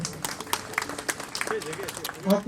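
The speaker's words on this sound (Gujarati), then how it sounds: "બધા જોરદાર એકવાર તાળીઓ વગાડો" An audience at a free eye camp at a Lions hospital in Bhuj breaks into brief, scattered clapping, with people talking over and around it.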